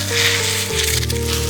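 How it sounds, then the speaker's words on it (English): Steady sizzling hiss of food frying in a hot pan, continuous and close, with a low hum underneath and no talking. "Listen to that sizzle."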